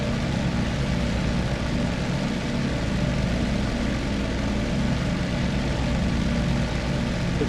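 A P-47 Thunderbolt's radial piston engine roars at maximum RPM in the DCS World flight simulator, a steady, dense, loud drone holding constant throughout with no voices.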